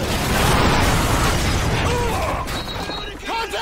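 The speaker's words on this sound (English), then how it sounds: "That's another grenade." A grenade blast in Call of Duty 4: Modern Warfare erupts as a loud, sustained roar of broadband rumble. Rattling debris and scattered mechanical clatter follow, tailing off into fainter pops and ringing.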